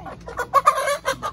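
A chicken clucking up close, a quick run of several short, sharp clucks in an uneven rhythm, clear and alone.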